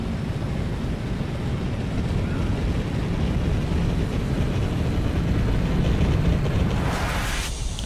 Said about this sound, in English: The Scout will glide at about 170 kmh and lose very little altitude.